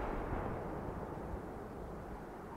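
A continuous low, rumbling boom from the SU-5 tank's gun in a video game, a dense broadband roar that holds steady for about two and a half seconds without a sharp attack, heard alone.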